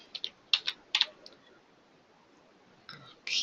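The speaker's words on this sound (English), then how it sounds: "which I'll start typing." Typing on a computer keyboard: a few quick bursts of clicky keystrokes near the start, a long pause, then another short run of key presses at the end, close and fairly crisp.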